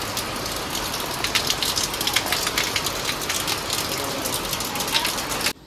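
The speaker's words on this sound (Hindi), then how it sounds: "अभी बारिश स्टार्ट हुई है और बड़े ज़बरदस्त बारिश हो रही है" Heavy rain pours steadily in Jammu, a dense, loud hiss of drops hitting surfaces with no talking.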